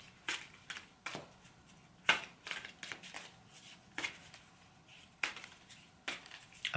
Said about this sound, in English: I'm just shuffling cards.